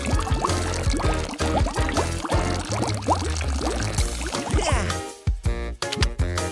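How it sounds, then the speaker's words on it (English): A liquid concoction glugs and pours out steadily in a cartoon crafting scene, mixed into loud, bouncy background music that fills the whole stretch. "Now let's pour out our special concoction."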